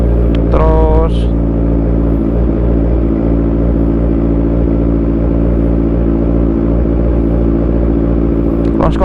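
A 2014 Kawasaki Z1000 Sugomi with full modifications runs close and very loud, its deep, throbbing engine rumble holding steady after a quick rising blip at the start.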